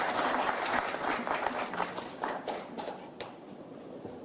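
Audience applause for the president of Haiti, Jovenel Moïse, at the National Palace: steady, dense clapping from a crowd that holds for several seconds and tapers slightly toward the end.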